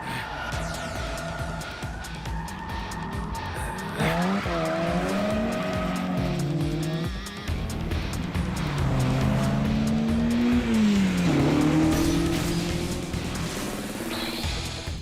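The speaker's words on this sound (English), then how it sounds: "we went to a drift event and got to witness this crazy driving on display firsthand" Cars at a drift event scream through long tire squeals that bend up and down in pitch over roaring, revving engines, loud and continuous throughout.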